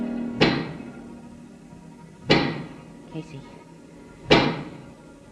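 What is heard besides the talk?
knocking of a giant pick, radio drama sound effect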